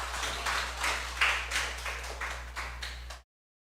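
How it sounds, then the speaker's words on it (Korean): Audience in a church service clapping in a steady, even rhythm to welcome a missionary, moderately loud and close, with no voices, ending abruptly. "한 선교사님 나올 때 우리 박수로 환영합시다"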